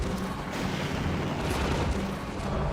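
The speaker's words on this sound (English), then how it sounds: "Let's go ahead and take out that rocket launcher." Heavy, continuous booming blasts from a rocket launcher in the shooter game Half-Life 2, dense low rumble filling the whole stretch with no clear gaps between impacts and no voices.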